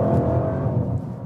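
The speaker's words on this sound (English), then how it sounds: "That means you hear the engine more in this vehicle." An Audi RS7 in dynamic mode gives a deep, steady engine drone from inside the cabin, loud and sustained, easing off slightly at the end.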